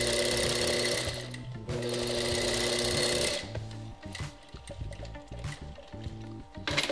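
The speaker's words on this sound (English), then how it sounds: "when you sew, you're gonna start it right on the edge there and pull really tight" A sewing machine stitches the fabric of a homemade snapback baseball hat, running in steady loud bursts close by with short pauses and stop-start runs toward the end.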